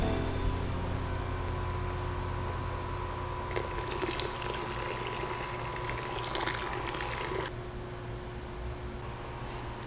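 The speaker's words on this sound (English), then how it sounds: "We want to continue to add rinse water so that the grain bed doesn't dry out." Rinse water is poured over the grain bed during an all-grain beer brew, a continuous trickle and splash that strengthens in the middle then eases off, over a steady low hum, with no voices.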